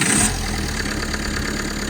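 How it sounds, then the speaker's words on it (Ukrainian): A cold, dirty 1.5 dCi diesel engine idles after a cold start, a steady near clatter with a brief louder burst at the start, no voices. "Запуск на холодну, а мотор повністю холодний, грязний."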